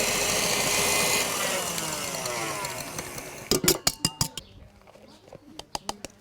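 An electric mixer whipping egg whites into meringue whirs steadily for a few seconds, then stops, followed by a series of sharp taps of the whisk against the bowl.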